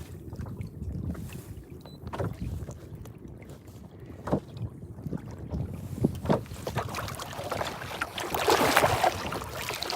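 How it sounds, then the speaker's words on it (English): Wind gusting over open water around a small fishing boat out for snapper with live bait, a steady rushing roar with buffeting microphone noise that builds louder toward the end, no talking. "Ooh, that wind's picking up."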